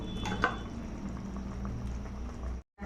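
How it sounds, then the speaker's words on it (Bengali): Date palm jaggery bubbling with mango in a pan, a soft steady simmer of popping bubbles and wet squelches, close and quiet, cutting off briefly near the end. "দেখো গুড় দেওয়ার সঙ্গে সঙ্গে ফুটতে লেগেছে"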